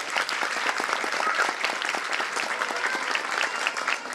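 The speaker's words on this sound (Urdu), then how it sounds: "بھرپور تالیاں بجانی چاہیے آپ کو۔" An audience at a school annual function gives a hearty round of applause, many hands clapping in a thick, sustained patter at close range for several seconds.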